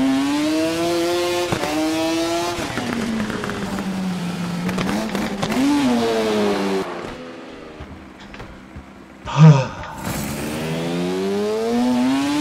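Motorcycle engine in the racing game TT Isle of Man: Ride on the Edge, a loud, high-revving whine that climbs through gear changes and then drops back, with one sharp bang near the end.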